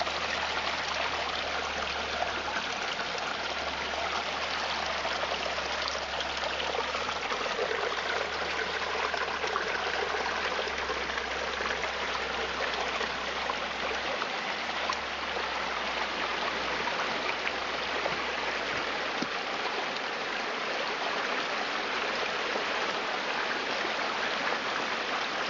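The River Roeburn stream flows through eroding woodland in a steady, full rushing wash that holds even for the whole stretch, close and alone with no voices.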